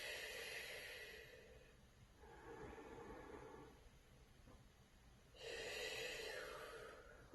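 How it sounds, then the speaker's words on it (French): Slow, deliberate breaths during a Pilates class, with three broad airy bursts of inhaling and exhaling separated by quieter pauses, close and soft with no talking. "On veut vraiment sentir la respiration qui bouge dans le corps."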